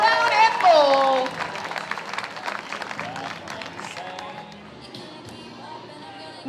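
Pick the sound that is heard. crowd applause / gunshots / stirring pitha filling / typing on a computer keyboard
crowd applause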